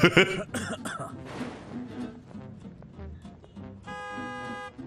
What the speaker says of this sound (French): il me tousse dessus